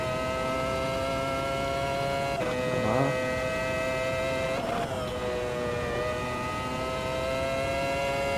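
A steady, droning race car engine tone from the racing sim Automobilista 2 holds at high revs with a few brief shifts in pitch, electronic-sounding and constant.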